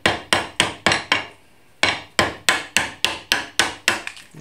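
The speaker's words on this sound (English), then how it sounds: "And this is a nice wide chisel, so I can pop them all off at the same time." A wide chisel driven by a mallet to pop off wood waste for a half-lap joint: a close, sharp series of about fifteen steady whacks, with one brief pause partway through.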